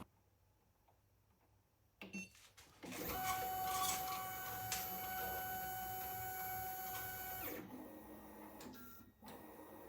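A Prusa CoreOne 3D printer with an INDX tool changer whirs and buzzes picking up a tool from a dock, motors humming steadily for several seconds before winding down with a few clicks.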